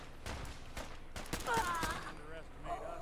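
A companion fires a weapon in the video game Fallout 4, with several quick bursts of gunfire at moderate distance under game sounds and electronic effects, while a voice speaks.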